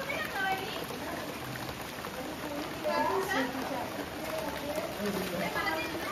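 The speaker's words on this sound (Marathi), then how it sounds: "पाऊस पडतोय खूप भारी" Heavy monsoon rain pours steadily outside a house in Khed, Ratnagiri, a constant broadband hiss that runs under people talking throughout.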